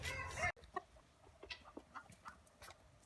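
Chickens cluck in a new outdoor chicken run, with soft, scattered calls at a moderate distance after a brief loud burst of noise at the start.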